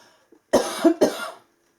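Two quick, close coughs in a row, sharp and dry, separated by a brief pause, with near silence before and after.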